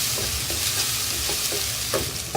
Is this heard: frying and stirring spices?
yes